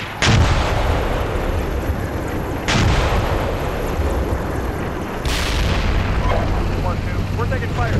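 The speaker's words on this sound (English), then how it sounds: "We're taking fire here." Heavy artillery and gunfire boom in the Steel Beasts Pro tank simulation game, three loud, deep blasts spaced a few seconds apart over a constant rumbling battlefield background.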